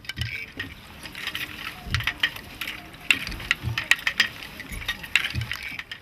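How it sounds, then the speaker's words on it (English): A hand loom weaves a narrow strip of fabric in an African village, giving repeated wooden clacks and ratcheting thumps at a loose rhythm, close and moderately loud, with faint voices in the background. "weaves one of the typical narrow strips of fabric, later to be sewn together in larger bolts."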